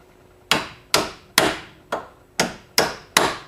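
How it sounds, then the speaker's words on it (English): A hammer knocks a bolt out of a car's steering knuckle during a strut spring replacement, with seven sharp, loud metallic strikes, each ringing briefly, spaced about every half second. "we're going to tap it out with a hammer"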